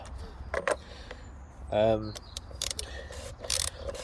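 A ratchet tightens the oil filter housing on a Volvo S80 D5 during an oil change in short bursts of clicking, and a voice briefly hums or speaks in the middle.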